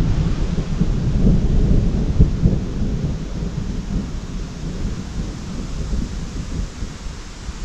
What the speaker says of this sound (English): I guess they're gonna get rained out for a few minutes.